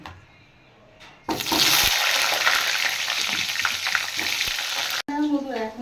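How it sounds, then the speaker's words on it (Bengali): Eggplant slices dropped into hot oil in a home kitchen, a sudden loud, steady hiss of frying that starts after a quiet pause, continues close and even for several seconds, then cuts off. "এবার আমি এখানে বেগুন ভেজে নেব"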